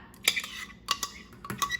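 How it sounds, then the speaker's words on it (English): A spoon scrapes butternut squash sauce out of a blender jar, giving several sharp clinks and scrapes of metal on the jar in quick irregular bursts, close and clear, with no talk. "Take a spoon from earlier, scrape out all of our sauce from our blender."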